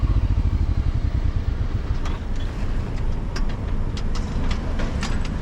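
Motorcycle engine running steadily with a clutch that will not disengage, heard while riding on the Tibetan Plateau; a loud, continuous low rumble with wind noise and a few sharp clicks toward the end.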